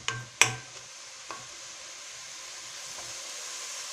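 Tomato sauce with onion sizzling in hot oil in a pan, a steady soft fry with a few sharp clinks of a utensil near the start, fairly quiet and close.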